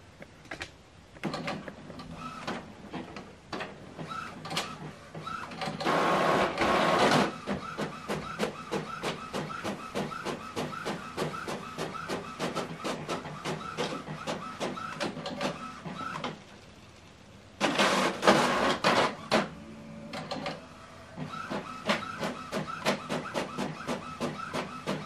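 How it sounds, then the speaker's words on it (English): An Epson inkjet printer runs a double-sided print job, whirring and clicking steadily in a close, busy mechanical rhythm, with two louder bursts of paper feeding partway through and no talking. "Now this document is going to print."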